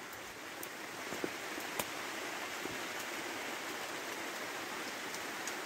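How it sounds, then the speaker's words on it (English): Rain drums steadily on the fabric of a hot tent with a wood-burning stove, a dense continuous patter with a few louder drops, close and even throughout with no voices. "That's the rain on."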